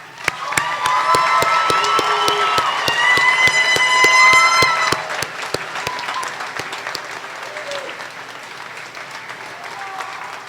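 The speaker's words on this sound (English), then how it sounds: "One more round of applause." A college commencement crowd applauds and cheers with loud, sustained clapping and shouts. The noise peaks, then thins into scattered claps, while a repeating click ticks steadily throughout.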